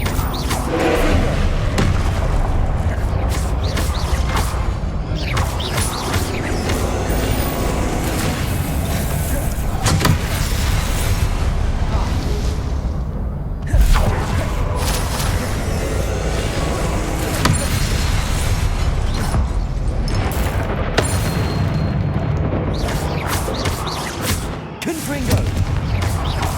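Heavy booms and thuds from Confringo blasting spells go off repeatedly in Hogwarts Legacy combat, loud and close over a constant roar of battle noise, with dense crackling impacts and brief lulls between volleys.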